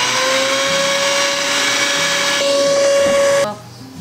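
Electric mixer whirring through almond cookie batter, a loud steady motor whine that shifts slightly, then cuts off abruptly near the end, leaving quiet room noise.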